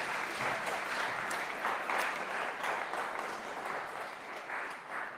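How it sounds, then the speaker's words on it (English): An audience applauds steadily for Konnect Studios at a Cultural Manoeuvres event, a dense, even wash of hand claps lasting several seconds with no talking over it. "I guess a round of applause for Konnect Studio, first of all."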